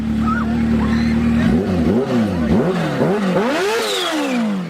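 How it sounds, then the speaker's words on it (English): A supercharged Kawasaki Z H2 hyper naked motorcycle revs loudly up close, its engine note rising and falling in repeated sweeping pulls with a fluttering whoosh between blips. "it's got the crazy supercharger flutter sounds"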